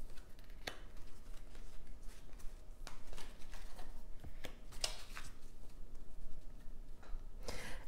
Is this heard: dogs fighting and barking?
no